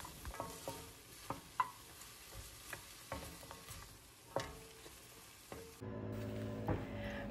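Vegetables for pansit stir-fried in a pan, with a steady soft sizzle broken by repeated scraping and clinking strokes of a spatula, close up, followed by a louder, denser frying hiss near the end.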